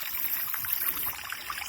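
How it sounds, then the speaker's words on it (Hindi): Water runs down a mountain stream in Kashmir, a close, bubbling trickle with small splashes and a constant wet hiss, brief and unbroken, with no one speaking. "ये देखें पानी, जगह जगह से पानी आ रहा है।"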